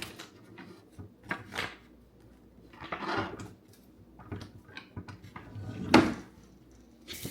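A wooden drawer in a bedroom slides and knocks shut, with several soft scrapes and thuds and one sharper bump near the end. The sounds are quiet and close, and no one speaks.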